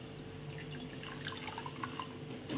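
Water drips and trickles from homemade paneer squeezed in a cotton cloth, a steady soft patter of drops, close and faint, with no talking.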